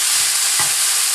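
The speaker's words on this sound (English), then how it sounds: "I'm putting it back in a skillet here." Drained meat sizzling hard in a skillet on an electric stove at medium heat, a loud continuous hiss up close with a faint scrape or two, no talking.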